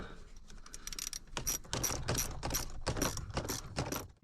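A hand ratchet clicks rapidly and repeatedly while undoing screws from the end cap of a motor, in close, busy bursts of mechanical ticking.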